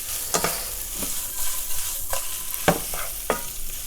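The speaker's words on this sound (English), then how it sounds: "So now as you can see, we are shallow frying the paneer." Paneer sizzles steadily as it shallow-fries in a hot pan while a utensil scrapes and stirs in several short, sharp strokes.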